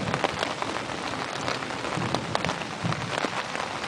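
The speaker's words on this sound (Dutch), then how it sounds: "Ik lig in mijn tentje. En het dondert en het bliksemt. En het regent." Rain patters steadily on a small tent during a thunderstorm, a dense continuous drumming of drops close overhead with no voices.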